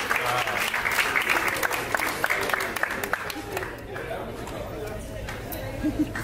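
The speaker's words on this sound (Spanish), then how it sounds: "Un fuerte aplauso, por favor" Audience applause for a prize winner at a business presentation, a dense round of clapping with crowd chatter that fades toward the end as talk resumes.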